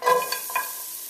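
Chopped onion dropped into hot vegetable oil in a pot over medium-high heat, giving a quick burst of sizzling that settles into a steady hiss, close and without speech.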